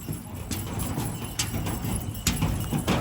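Hooves of a horse carrying a rider on a pony ride to Shiv Khori clip-clop in a steady, uneven rhythm of close, sharp hoof strikes over outdoor background noise.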